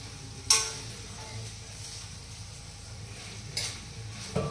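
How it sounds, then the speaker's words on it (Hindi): Okra curry (bhindi sabzi) cooks over a low flame in a pan, a soft steady sizzle under occasional sharp clinks and scrapes of a spoon stirring against the metal. "भिंडी की सब्जी है वो धीमी धीमी आंच पे पकेगी"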